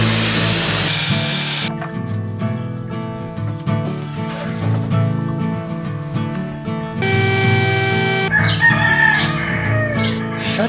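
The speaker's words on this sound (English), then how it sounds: "Shut the heck up, you stinking roosters." Roosters crow repeatedly amid loud music and a spraying hiss, the crows rising sharply near the end over the busy mix.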